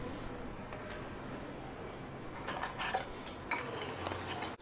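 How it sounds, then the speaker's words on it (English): Four eggs being beaten with pepper powder and a little salt in a big bowl: a utensil clinks and taps against the bowl in irregular bursts, growing sharper and busier toward the end over a soft background hiss. "Beat 4 eggs in a big bowl with 1/2 teaspoon of pepper powder and a little"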